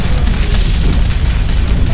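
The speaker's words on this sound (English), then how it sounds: "setting off an explosion from leaking gasoline" An explosion from leaking gasoline in a film, a loud, dense, sustained roaring blast filling the whole moment with heavy low rumble, and no speech.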